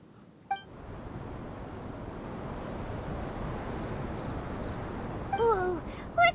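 A strong sandstorm wind in the video game Genshin Impact rushes as a steady, broad roar for several seconds, with a short sound before it and brief character voices near the end.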